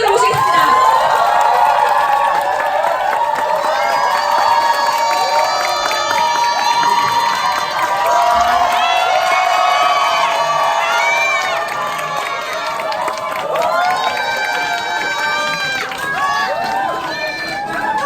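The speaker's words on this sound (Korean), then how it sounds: "큰 박수로 모시겠습니다" Large crowd cheering, whooping and applauding loudly throughout as a presidential ambassador is welcomed onto the stage at a Nu Skin group seminar, with shouts rising and falling amid the continuous roar.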